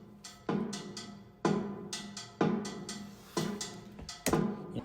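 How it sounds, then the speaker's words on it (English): Latin-style timbales with cowbell play a steady rhythmic pattern of sharp, ringing metallic hits and drum strikes in regular accented groups, fairly quiet and with no voices. "timbales with cowbell."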